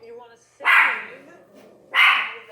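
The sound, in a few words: dogs barking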